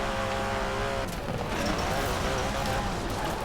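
A GT car in Forza Horizon 4 roars steadily at high revs with tire noise and skidding, engine sound loud and continuous throughout, with faint talk mixed in.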